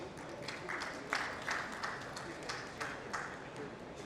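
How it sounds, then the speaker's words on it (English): An audience at a panel discussion on surface engineering, coating and corrosion control gives a speaker a round of applause, with soft scattered clapping and a few sharper claps that stay fairly quiet under the hall's background murmur. "A big round of applause, please."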